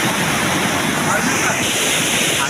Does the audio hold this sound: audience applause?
no